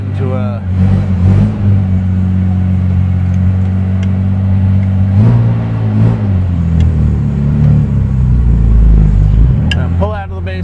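A 1960 Aston Martin DB4 Series 2 engine idling on choke after a cold start, a loud, steady close rumble with slight rises in revs, heard under someone talking.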